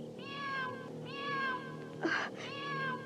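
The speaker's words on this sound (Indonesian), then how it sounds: "aku mendengar suara seekor kucing di atas atap rumah kita" A cat on a house roof meows several times in close succession, loud and near, each cry rising then falling, with a quieter bump between the calls.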